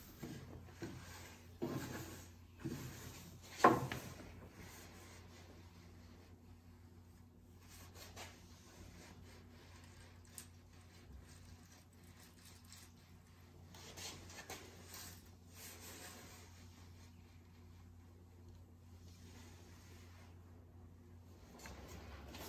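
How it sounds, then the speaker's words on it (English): Slow, intermittent rubbing and rasping strokes of hand sanding fairing compound on a boat hull, quiet and close, with a few sharper knocks near the start. "That's a lot of sanding."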